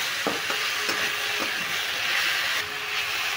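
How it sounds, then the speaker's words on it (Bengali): Bitter gourd and pumpkin cooking with sugar in a pan, a steady sizzle under a few quick scrapes and clinks of stirring near the start, and no voices. "চিনিটা দিয়ে আমি ভালো করে নেড়ে চেড়ে দিচ্ছি"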